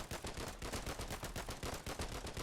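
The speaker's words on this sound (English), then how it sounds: "So now I'm shooting that guy back there." Gunfire from the video game Foxhole: rapid, dense automatic shots in a steady rattling burst, very faint and distant throughout.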